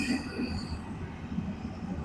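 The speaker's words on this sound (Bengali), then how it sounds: "এই মুহূর্তে ট্রেনটা আসছে" A train arrives on a rural railway line near Bijoypur, Bikrampur, its rumbling wheels and rolling clatter steady and moderately close, with no talk over it.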